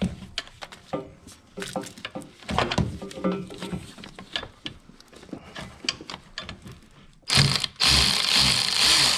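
A ratchet loosening the alternator bolt on a GM 3800 engine, a busy run of close, repeated clicking pawl strokes with bursts of metallic tool noise, ending in a louder sustained mechanical rasp.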